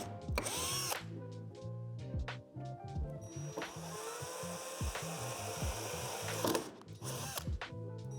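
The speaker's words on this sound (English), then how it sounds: "drill them out with the provided 1/8 drill bit" A power drill with a 1/8-inch bit whirs in short bursts, starting and stopping several times, with sharp scraping and clicking of the bit biting into a shed's metal between runs.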